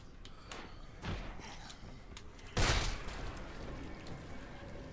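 A few gunshot-like bangs in the zombie game Dead Island, sharp impacts with one louder blast near the middle over a noisy game background, fairly faint overall.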